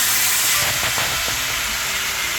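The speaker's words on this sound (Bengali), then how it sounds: "হালকা করে ভেজে নেব মরিচটার সঙ্গে" Potatoes and ridge gourd frying with dried chilli in hot oil for a fish curry, a loud, steady, close sizzling hiss that fills the whole clip.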